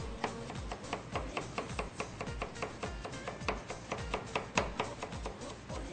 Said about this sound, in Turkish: salatalığı küçük küçük doğramamız lazım